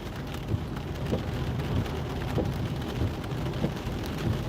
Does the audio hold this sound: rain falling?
yes